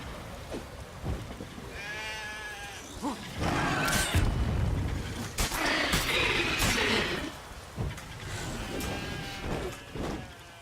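Sheep bleat in The Witcher 3, with a few wavering calls amid a loud, rumbling, rain-like wash of game ambience and scattered sharp knocks.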